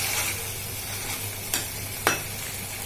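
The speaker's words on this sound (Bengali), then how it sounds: "এটা এখন কষিয়ে নিব, ততক্ষণ পর্যন্ত কষিয়ে নিব যতক্ষণ কাঁচা একটা ফ্লেভার থাকে" Curry masala for egg curry sautés in a pan with a continuous sizzle, broken by two sharp scraping stirs.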